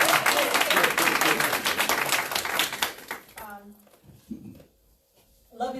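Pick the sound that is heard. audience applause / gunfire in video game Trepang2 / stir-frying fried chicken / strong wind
audience applause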